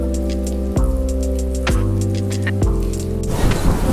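Rain falling steadily in a garden in Plovdiv during stormy weather, a dense continuous patter heard from under shelter, with a steady low hum running beneath it.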